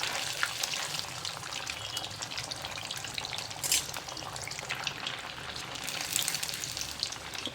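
Soya chaap frying in a pan of oil until golden brown, giving a steady, close sizzle and crackle that runs throughout with small pops and no talking.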